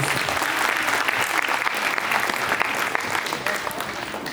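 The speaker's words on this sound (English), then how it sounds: "Can we have a round of applause, please?" Dense, loud applause from a gathered crowd honouring a couple's golden wedding anniversary, a sustained even roar of many hands clapping throughout.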